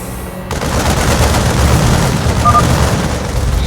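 Gun turrets open fire in StarCraft II, starting abruptly and keeping up a loud, continuous barrage of rapid gunfire and booms until the end.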